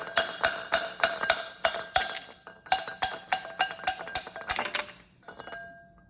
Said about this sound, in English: You can actually tap it out with this and a hammer.